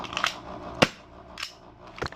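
A VFC Glock 19X stainless steel replica pistol is dry-fired with no ammunition, giving sharp metallic snaps with one loud crack and a few smaller clicks spread across a couple of seconds, close to the listener.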